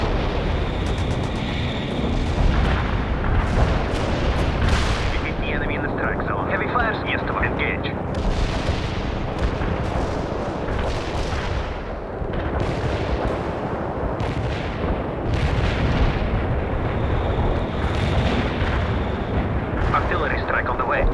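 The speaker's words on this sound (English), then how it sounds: "Commencing the barrage. Artillery strike successful." A World in Conflict artillery barrage thunders as dense, overlapping booms and rumbling blasts, loud and continuous, with game radio voices talking over the bombardment.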